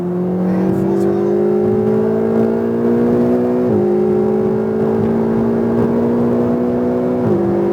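A Ferrari 488 accelerates at full throttle around High Plains Raceway, its loud engine note climbing steadily, dipping sharply at two upshifts, then rising again.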